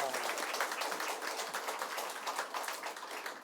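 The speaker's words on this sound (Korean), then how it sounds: "우리 한번 감사 박수 하겠습니다" A congregation at a Sunday church service in Daegu claps in thanks, a steady wash of hand claps that holds throughout at moderate loudness.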